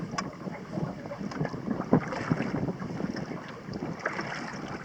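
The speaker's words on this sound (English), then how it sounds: "And the wind is picking up." Wind gusting across a lake outdoors in fall, a steady broadband rush with buffeting against the microphone and faint lapping water, loud and continuous with no talk.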